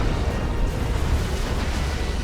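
Heavy lascannon shots and melta bomb blasts pound a Tyrant Guard in a Dawn of War 2 battle between Imperial Guard and Tyranids, a dense, continuous rumble of low booms and crackling bursts with no clear breaks.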